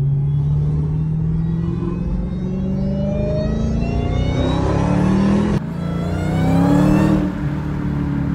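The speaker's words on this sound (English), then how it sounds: "Honda Accord may whine louder than an actual Hellcat." Honda Accord with a swapped Hellcat supercharged engine accelerating, a loud rising supercharger whine over engine rumble, a brief dip at a gear change, then climbing again.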